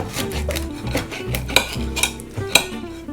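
Knife and fork scrape and clink against a plate as a crispy air-fried tomahawk pork chop is cut, with a few sharp metallic taps standing out over a busy, continuous clatter.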